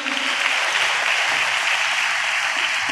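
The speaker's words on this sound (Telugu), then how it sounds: "చప్పట్లు కొడితే యేసయ్యకు స్తోత్రాలు చెప్దాం." A church congregation applauds in praise of Jesus, a dense, steady wash of clapping that holds at a constant loud level for the whole stretch with no voices on top.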